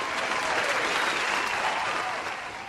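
Cheering and applause sound effect in the factory-building game Satisfactory: a dense, steady burst of crowd clapping heard alone, easing off slightly at the end.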